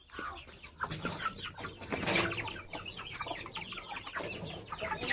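Chickens cluck and squawk busily up close, with wing flaps and scattered farmyard noise around them.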